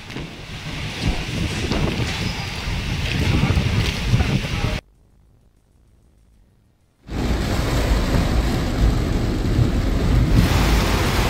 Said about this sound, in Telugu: ఆసిఫాబాద్ జిల్లా రెబ్బెన మండల కేంద్రంలో కుండపోత వాన పడింది.